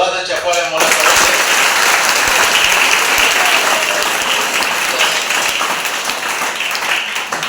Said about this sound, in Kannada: ಒಮ್ಮೆ ಎಲ್ಲರೂ ಜೋರಾದ ಚಪ್ಪಾಳೆ ಮೂಲಕ